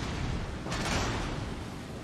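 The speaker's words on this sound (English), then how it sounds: "Smaller caliber gunfire" Smaller caliber naval gunfire in the World of Warships Legends naval battle game, a dull booming burst swelling briefly over a constant rumbling, noisy game background.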